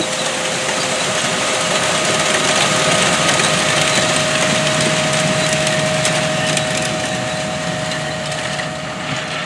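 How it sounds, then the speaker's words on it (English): A John Deere 1890 air drill pulled by an 8R 370 tractor, no-till seeding through corn stalks in a field, giving a loud, continuous mechanical roar and crunching rumble with a steady tone throughout. "Here's a close-up view of the 1890 air drill no-till seeding through the corn stalks."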